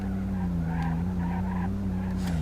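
Semi-truck drifting in the BeamNG Drive game: a steady low droning diesel engine tone with faint tire squeal rising and falling over it, loud and continuous, no talk.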